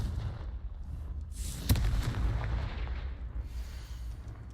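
Blasting-spell explosion from the game Hogwarts Legacy, a sharp boom followed by a low, rumbling roar that lingers and fades over several seconds.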